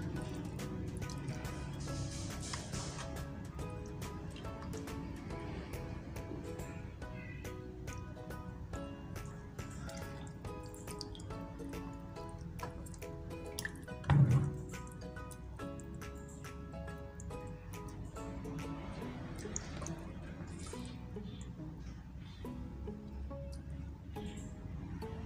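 Milkfish being rinsed under running water, a steady trickle and splash of liquid lasting throughout, with one brief louder splash midway and soft wet handling sounds.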